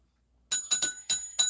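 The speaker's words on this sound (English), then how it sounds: "Oh, why does the bell all sound like that?" A bright metallic bell rings five quick times after a moment of silence, each strike sharp and ringing with a short decay, loud and close with no voices.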